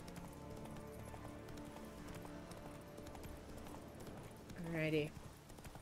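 Roach the horse galloping in The Witcher 3, a steady soft clip-clop of hooves under game ambience, with a brief louder snort or whinny near the end and a spoken word.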